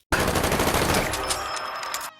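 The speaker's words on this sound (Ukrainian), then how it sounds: "Щойно він в нього випустив із автомата весь магазин" An assault rifle empties a full magazine in the action film Black Adam, a loud continuous burst of rapid gunfire that stops abruptly after about two seconds.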